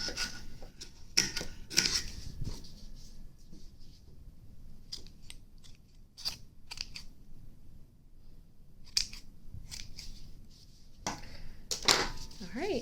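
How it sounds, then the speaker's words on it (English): Scissors make several sharp, brief snips while trimming long fabric strips off a homemade knotted dog toy, spaced irregularly across a quiet indoor room with light handling noise between cuts. "take your pair of scissors and trim off any of the really long strips"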